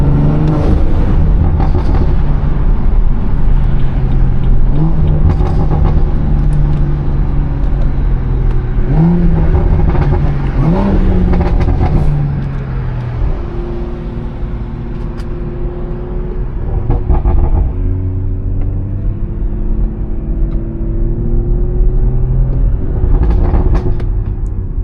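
A BMW 340i with an aftermarket exhaust revs hard, rising and falling in repeated throaty surges with a steady engine rumble between them, loud and close, with no talk over it.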